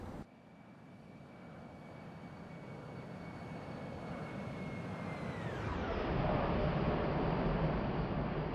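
An airliner flyby in the X-Plane 11 flight simulator: a broad jet roar swells steadily, then its whine drops sharply in pitch as the aircraft passes, staying loud and continuous to the end.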